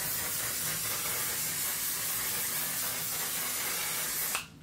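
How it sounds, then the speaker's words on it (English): One Size setting spray misted onto a face in a makeup routine: a steady, close, loud aerosol hiss running for about four seconds before cutting off abruptly. "We're gonna lock everything in with the One Size Setting Spray."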